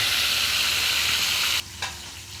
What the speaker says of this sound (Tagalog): grabe ang bukal sang mantika. Pula-pula din ang bangros mga brad.